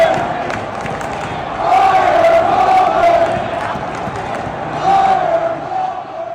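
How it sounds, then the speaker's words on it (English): Stadium crowd booing Pittsburgh Steelers head coach Mike Tomlin, a loud sustained roar of many voices that swells around the middle and again near the end. "obviously there was the Mike Tomlin booing"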